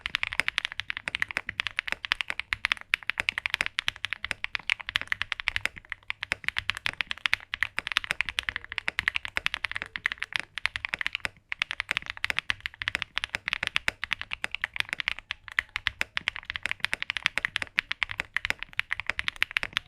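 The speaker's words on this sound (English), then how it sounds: "here's a sound of a keyboard that has all of the foams in them" Fast, continuous typing on a mechanical keyboard fitted with all its foams produces a dense, steady patter of close, clicky keystrokes with no voices.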